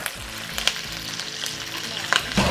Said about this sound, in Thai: ต่อไปนะครับเรามาใส่เบคอนลงไปกันนะครับ